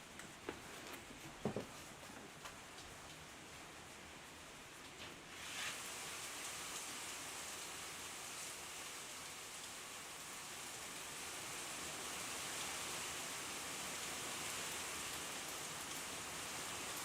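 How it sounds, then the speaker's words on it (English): Hail falls outside in a steady, dense patter striking surfaces, rising into a constant hiss after a few scattered taps at the start. "It is hailing out there."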